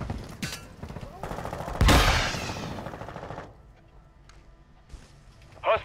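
Video game gunfire in a Warzone Resurgence quad match: rapid automatic bursts crackle, with one loud, dense volley in the middle, then the shooting fades to quieter game ambience and a few scattered shots.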